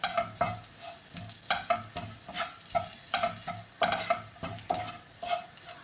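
Garam masala and spice powders fry in an oily pan for a Kerala prawn roast, with a soft background sizzle broken by regular scraping stirs of a spoon against the pan, close up and without talk.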